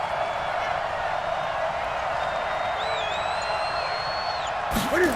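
A crowd roaring inside a domed football stadium, a steady wash of cheering with faint whistles rising over it, and a sharp burst of noise at the very end.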